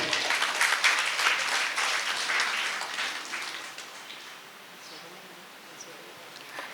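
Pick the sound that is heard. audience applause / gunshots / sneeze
audience applause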